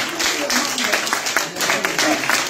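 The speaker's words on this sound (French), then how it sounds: "Applaudissons, s'il vous plaît." Congregation applause at a baptism service in a church in Gisors, dense broadband clapping filling the space steadily, with voices mixed in under it.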